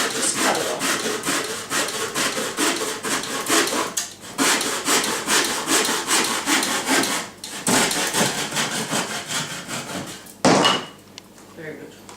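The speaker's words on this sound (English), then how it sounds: "keep your fingers out of the way but your thumb helping guide it, just cut it off." A hand saw cuts wood along a marked line in quick, even back-and-forth rasping strokes. The sawing is loud and close, pauses briefly twice, then ends with a sharp knock as the piece comes free.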